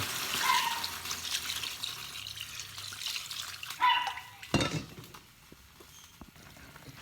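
Water splashes and trickles for a few seconds into a cooking pot of sautéed ingredients, with a couple of clinks of the pot, then a sharp knock and quieter stillness.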